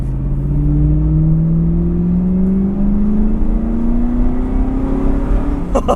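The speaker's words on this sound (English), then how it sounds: "We're gonna have a nice opportunity to at least give it some gas here." A 2000 Pontiac Trans Am WS6 V8 engine accelerating hard, a deep loud rumble that rises steadily in pitch over several seconds, heard up close.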